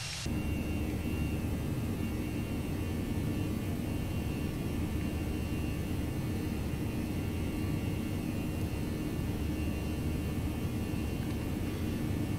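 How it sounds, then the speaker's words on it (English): An A319 airliner flyby in the X-Plane 11 simulator, a steady loud broadband engine roar and rumble that holds at an even level for the whole stretch, with no voices. "Let's do a flyby for you guys here."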